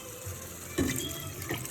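Water poured from a kitchen tap or vessel onto parboiled rice being cooked for paneer biryani, a short close splash that starts abruptly and runs steadily with a slight rise near the end, no talk.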